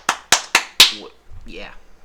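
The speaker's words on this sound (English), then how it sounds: "everybody's clapping at the same time right now" Four sharp, close claps in an even rhythm from a small group, followed by a person starting to speak.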